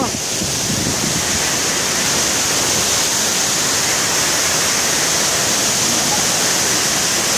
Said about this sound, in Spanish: Y ahorita van a ver la cascada.